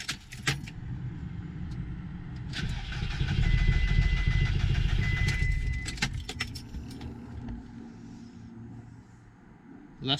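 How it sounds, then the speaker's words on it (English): A VW Golf Mk4 1.4 cranks for several seconds without catching after a fuel filter change, a steady whirring effort that rises and fades; keys jangle sharply at the start and end. "Car don't want to start."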